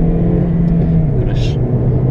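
A car accelerates out of a bend in second gear, its engine a steady, close, loud drone for about two seconds with a faint high whir near the end.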